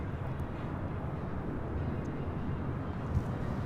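A Delta airliner takes off from runway 24 left at LAX, a steady broadband jet roar heard from a distance, holding an even level throughout.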